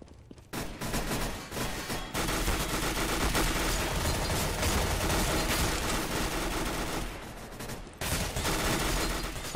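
Dense automatic gunfire in Counter-Strike: Global Offensive, a loud sustained burst of rapid shots running almost unbroken for several seconds, with short gaps near the start and end.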